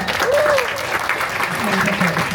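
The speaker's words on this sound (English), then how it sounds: "Let's give a big round of applause to all of our" Audience applause at a culinary arts town hall, a brief burst of clapping from the crowd with a few voices and whoops mixed in over it.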